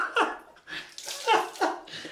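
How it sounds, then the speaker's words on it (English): Water from a tap splashes and spatters at a bathroom sink during a straight-razor shave, several bursts of hissy splashing close by, with a startled breathy reaction mixed in. "we're getting splashes of water"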